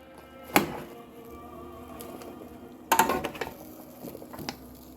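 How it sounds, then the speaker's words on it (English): Vegetables tipped and stirred into a metal roasting pan of beef bones, two clattering bursts of scraping and knocking with softer clinks between, close by and without speech. "Put our veggies in, give them a quick stir."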